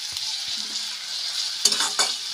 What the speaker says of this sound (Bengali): হাই ফ্লেমে পেঁয়াজটা একদম গোল্ডেন করে ভেজে নেবো